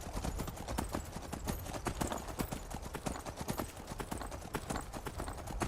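Steady clip-clop of horse hooves in Skyrim at a brisk rhythmic pace, close and continuous, with no voices.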